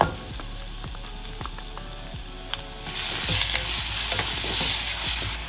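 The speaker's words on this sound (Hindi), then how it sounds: "सबसे पहले मैंने डाले इसमें प्याज, इसके अंदर मैं डालूंगी मेरे टमाटर," Onions and tomatoes fry in oil in a pan. Light stirring and crackle come first, then a loud, steady sizzle swells up close, with no talking.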